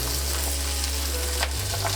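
Onions, mushrooms and carrots fry in a pan with a loud, continuous close-up sizzle, alongside a steady low hum.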